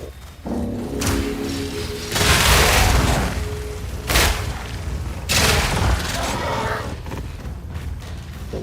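Gunfire in the video game Path of Exile 2, heavy booming blasts and a dense fusillade of shots coming in surges, loud and mixed with game effects, with brief talk.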